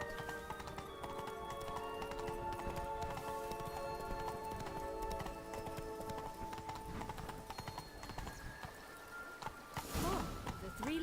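Roach, the horse in The Witcher 3: Blood and Wine, gallops with steady rapid hoofbeats over a music-filled game soundtrack, with a brief louder burst near the end and game speech underneath.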